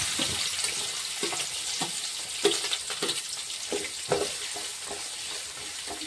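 Onions sizzling and frying in a pan for millet upma, a steady crackling hiss with occasional stirring clatter, close and continuous with no talk.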